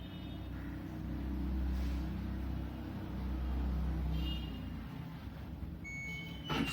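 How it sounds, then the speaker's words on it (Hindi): A fully automatic washing machine rumbles low and steadily as its cycle ends, then sounds a few short electronic beeps and a brief high tone melody in the last second or so. "अभी एक बीप साउंड होगा और उसके बाद हम डोर खोल सकते हैं।"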